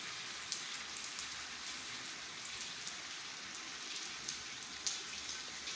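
A downpour drums on a courtyard where water is pooling, a thick unbroken hiss with a few sharper drips standing out now and then, close and loud, no talk.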